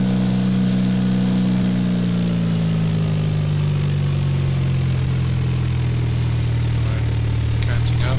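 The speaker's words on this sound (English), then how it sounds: "The aircraft is drifting over to the left, but that's normal for any single propeller small aircraft." Single-propeller small aircraft engine at full throttle in the X-Plane flight simulator, a loud steady droning roar whose pitch slowly drifts lower across the takeoff roll, continuous throughout.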